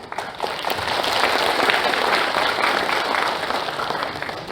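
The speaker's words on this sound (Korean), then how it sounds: "박수로 맞이해 주십시오." Sustained applause from a seated audience at a founding ceremony for a bereaved families' association fills the hall, a dense, even wash of clapping that swells slightly and carries on without pause.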